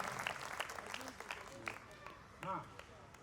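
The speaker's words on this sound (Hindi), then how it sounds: "एक बार तालियां बजाकर भरपूर स्वागत उल्लास में होना चाहिए।" Faint scattered applause from the audience at a Hindi kavi sammelan poetry recital, quiet and distant beneath a voice talking over it.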